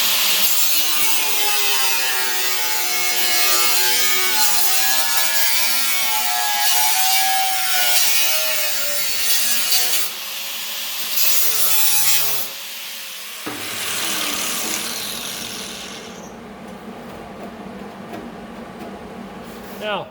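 A saw cutting through a metal body panel and its existing welds during hand-made panel repair, with steady rhythmic rasping strokes close up that stop partway, leaving quieter shop sounds.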